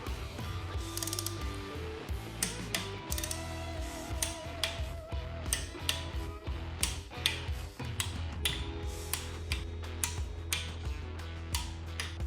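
Torque wrench tightening cylinder head bolts on a rebuilt VW 1200cc Beetle engine to final torque, with repeated close ratcheting clicks and metallic clunks in an uneven rhythm and no talk.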